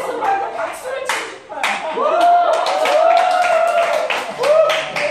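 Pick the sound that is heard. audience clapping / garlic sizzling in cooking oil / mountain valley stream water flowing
audience clapping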